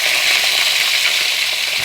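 Steady, bright sizzle of sliced radish hitting hot oil with tempering spices and golden fried onion, continuous and close, with no voices.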